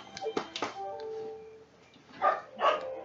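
A dog barks indoors in a room during a gaming session, giving a few quick, fairly faint yips early on and two fuller barks near the end, with quiet background sounds between them.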